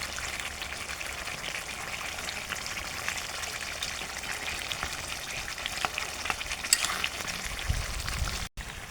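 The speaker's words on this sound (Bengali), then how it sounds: "এখন এর মধ্যে 2 চামচ ঘি দিয়ে দেব।" Ghee spatters into a pan of spicy chicken roast, a dense, steady sizzle and crackle filling the whole stretch at close range, with no voices.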